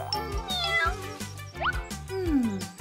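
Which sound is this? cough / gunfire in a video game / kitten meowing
kitten meowing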